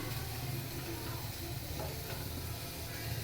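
A pot of black-masala mutton curry simmers with a dense, continuous hiss and bubbling wash, close and fairly loud throughout, with no talking.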